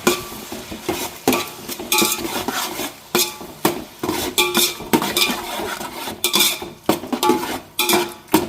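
A metal utensil stirs chopped tomatoes in a pan for a black trevally fish head curry, making loud, close scraping strokes in a steady rhythm about every half second, with no voices.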